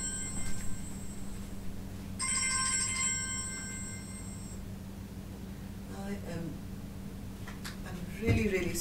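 A mobile phone ringtone chimes in a bright repeating pattern for a few seconds, fairly close and clear over a low background hum, with a soft voice talking quietly around it.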